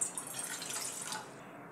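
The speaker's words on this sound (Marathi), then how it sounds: "आता त्यामध्ये पाणी टाकते।" Water is poured into a pan sitting on a gas stove, a steady close splashing and trickling stream that runs without a break, with no talking over it.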